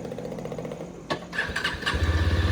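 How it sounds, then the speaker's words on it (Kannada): A Yezdi Adventure motorcycle starting up: a short crank and catch, then the exhaust settles into a close, steady thumping idle that grows louder. "ನೋಡಿ ಎಕ್ಸಾಸ್ಟ್ ಸೌಂಡ್ ಯಾವ ಥರ ಕೇಳಿಸ್ತಾ ಇದೆ ಅಂತ"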